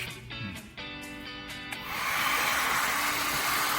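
A pet blower dryer motor hums with strong harmonic tones, then rises into a loud, steady rushing blast of air that continues to the end.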